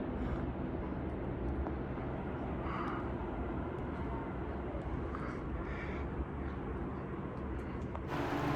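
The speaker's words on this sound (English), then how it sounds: "chopper just passed" Rotor and engine noise from a helicopter passing over rocky desert terrain near Sedona, Arizona, a steady broadband roar that holds throughout with no speech.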